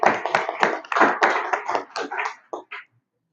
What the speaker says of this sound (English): Please clap it up for her